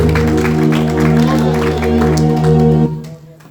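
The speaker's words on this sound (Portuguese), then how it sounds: "Aplauda Jesus" A church congregation claps during a worship service, with crowd applause layered over sustained organ or keyboard chords and singing voices, fading out near the end.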